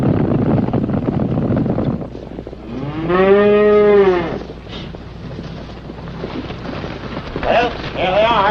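A herd of cattle out in open range country, with one clear drawn-out moo rising over a windy, rumbling outdoor background, followed by fainter lowing calls from the herd.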